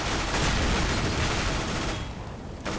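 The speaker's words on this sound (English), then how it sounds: "so your submachine gun's gonna do a lot of work" Sustained submachine gun fire in a shooting video game, loud and continuous for a couple of seconds with a dense rattling burst that briefly thins near the end, no voices.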